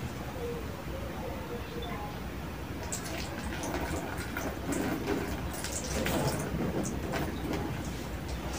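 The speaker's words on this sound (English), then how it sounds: "I am now going to pour a warm water over your perineal" Warm water is poured over a patient's perineal area during perineal flushing, a soft, continuous trickling and splashing close by with faint drips, quiet and steady throughout.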